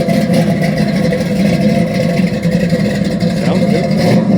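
A truck engine rumbles and revs at an outdoor cruise-in car show, loud and close with a steady throaty drone and a brief rise near the end, crowd voices faintly mixed in.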